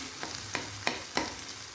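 Egg and tomato frying in a pan are stirred in four evenly spaced scraping strokes over a soft, steady sizzle, close and fairly quiet with no talking.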